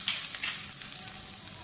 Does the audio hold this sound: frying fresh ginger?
yes